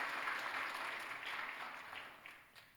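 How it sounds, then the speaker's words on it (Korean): A church congregation at a Sunday service claps in congratulation, a soft, distant patter of applause that gradually fades away. "박수로 미리 한번 축하하겠습니다."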